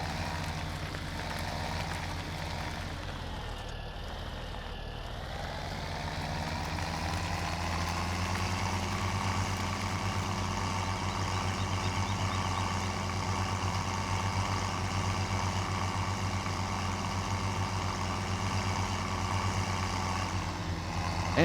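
A tractor engine idles in Farming Simulator 17, a steady low droning rumble that shifts slightly in pitch early on and then holds constant at moderate loudness.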